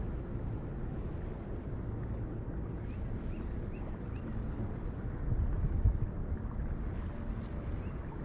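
Strong wind gusts roar across a creek bank, buffeting the microphone in a continuous low rumble that swells briefly louder midway.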